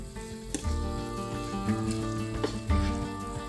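Potatoes and spring onions for a Spanish omelette fry gently in a pan over low heat, giving a soft, steady sizzle with a few light crackles and stirring sounds, heard up close with no talk.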